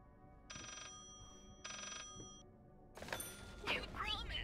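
An old telephone rings in the horror video game Layers of Fear, two distinct electronic bursts of ringing followed by a louder jumble of clattering and eerie tones.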